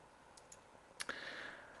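A computer mouse clicks a few times, faint and crisp, in a quiet room, followed by a brief hiss of background noise.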